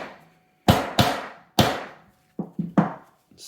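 A hammer muffled by a towel taps a fire control group housing into a 3D-printed CAFE12 receiver front, giving about seven sharp, close knocks in an irregular rhythm with short pauses.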